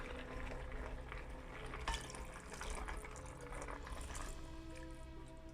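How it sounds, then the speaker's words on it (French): Water poured into a Cookeo electric pressure cooker pot for couscous, a steady, faint splashing fill running without pause, with no one speaking. "je rajoute l'eau"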